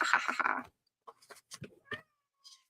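A cat lets out one loud, drawn-out meow up close, followed by a few shorter, quieter meows and soft sounds after a pause.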